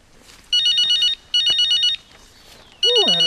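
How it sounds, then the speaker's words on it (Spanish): A mobile phone rings in three loud electronic bursts with short gaps between them, and a faint voice is heard near the end. "Ahora están timbrando"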